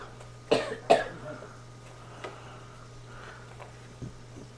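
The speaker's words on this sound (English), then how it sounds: "Janice has got a little bit of a cough." A woman coughs twice in quick succession, close and moderately loud, followed by a few faint taps and a low steady hum in an indoor kitchen.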